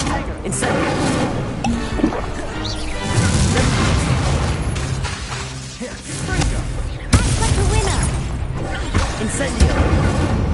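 Incendio fire spell blasts in Hogwarts Legacy on PS5, booming bursts and crashes mixed with dense combat effects and music, with a character's voice shouting spells over the noise.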